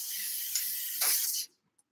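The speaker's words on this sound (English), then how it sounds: "I'm going to spray it again" A spray bottle misting onto alcohol ink and colored pencil artwork gives one close, continuous hiss of about one and a half seconds, then stops sharply, with a tiny puff just after.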